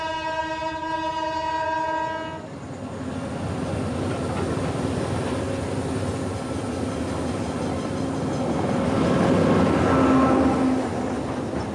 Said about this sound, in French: On entend le train.